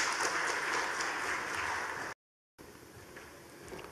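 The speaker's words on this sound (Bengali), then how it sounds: "জোরে করতালির মাধ্যমে অবশ্যই" An audience at a formal Pubali Bank event claps to welcome a speaker to the stage, a dense spread of applause broken by a short dropout before clapping resumes more softly.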